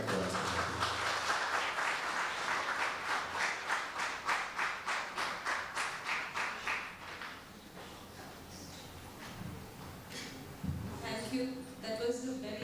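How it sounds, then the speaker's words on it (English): Audience clapping at an oncology conference lecture, rhythmic and fairly close, gradually fading out before a speaker starts talking. "That was a very loud round of applause for sir because it was very informative"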